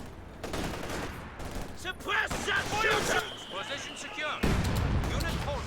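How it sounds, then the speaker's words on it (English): Mortars firing in the World War II strategy game Company of Heroes 2, Soviets versus OKW, a string of sharp blasts and booms amid battle noise while someone talks over them. "Mortars blasting away."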